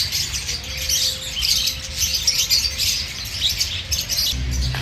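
Busy chorus of small birds, including lovebirds, chirping and tweeting continuously in a bird park, bright and dense, with a low rumble of room noise beneath.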